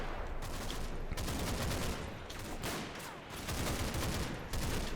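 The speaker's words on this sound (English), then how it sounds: "there's definitely some automatic fire in there" Automatic weapons fire rattling in Combat Mission: Battle for Normandy, a WWII Normandy battle game, with loud, dense bursts that overlap almost continuously and pause only briefly.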